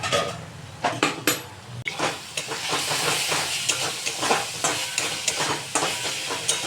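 Spicy loitta fish curry being stirred in a pot, with repeated clinks and scrapes of a spoon against metal over a hissing sizzle, close and fairly loud, no talking.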